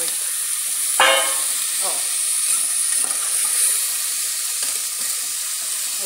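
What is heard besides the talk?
chicken frying in a pan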